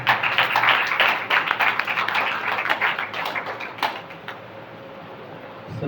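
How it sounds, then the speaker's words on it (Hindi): A congregation at a Christian wedding service claps in a brisk, scattered patter that runs for several seconds, then thins to a few last claps and goes quiet. "ताली बजा दीजिए परमेश्वर।"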